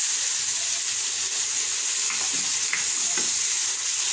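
Chicken with yogurt and spices cooking in a pan, a constant loud hiss of frying with a few faint stirring scrapes near the end, close up and without talk.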